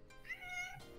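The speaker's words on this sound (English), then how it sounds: "That's a more traditional meow." A pet cat gives a single short, clear meow, close and fairly quiet, with no talking over it.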